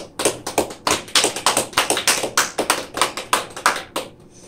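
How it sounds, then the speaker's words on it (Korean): Church congregation clapping for a member's birthday, a modest group of hands producing a quick, fairly even run of sharp claps that stops abruptly near the end, moderately close. "멀리 있지만 박수 한번 하시죠."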